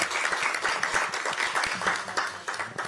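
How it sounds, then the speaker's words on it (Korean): Audience applause at a Democratic Party supreme council meeting in Korea, a dense, steady wash of many hands clapping for about three seconds with no talking over it. "박수 한번 치고 시작하죠."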